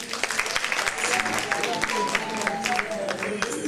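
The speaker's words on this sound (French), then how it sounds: "On l'applaudit." An audience at a Women's Day gathering claps in a lively, uneven patter, with people talking over the applause throughout.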